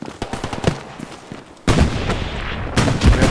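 Video game machine gun fire, rapid bursts of close, loud shots starting in short cracks and then erupting into sustained heavy fire with booming impacts.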